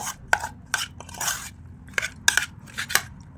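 Potato pieces being tossed and stirred with masala in a bowl for potato 65 fry, a run of sharp, crisp clinks and scrapes in irregular bursts, close and fairly loud.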